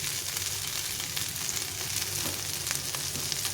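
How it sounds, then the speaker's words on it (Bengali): Vegetables and chilies frying in oil on a low flame, a steady close sizzle and crackle with faint stirring, no voices. "একদম লো ফ্লেমে আমি আস্তে আস্তে করে ভেজে নেবো সব।"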